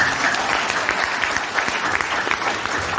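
Audience applause at a sales meeting, a steady wash of many people clapping, fairly close and loud, with no voices over it for the full three seconds.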